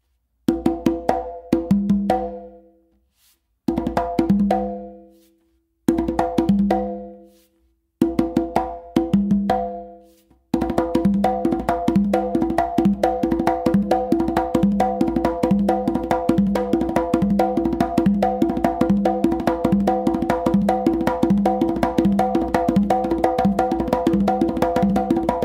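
Congas and tumba played by hand, starting with short phrases of open tones and slaps separated by pauses, then settling into a steady, loud, continuous interlocking pattern with no talking.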